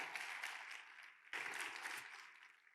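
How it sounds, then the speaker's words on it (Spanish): Church congregation applauds during a sermon, a faint, distant wash of steady clapping with a brief dip midway. "Dale un aplauso a Jesús."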